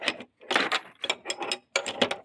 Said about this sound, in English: And then a Power Torque 1/2" ratchet.